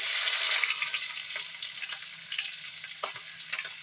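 Chopped garlic and onion drop into hot oil already used for frying baby corn. A loud hissing sizzle bursts at first and settles into a close, crackling fry with light stirring knocks.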